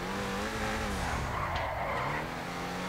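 A car in GTA 5 Online revs and skids, its engine droning as tires squeal through a sliding turn, loud and continuous without speech.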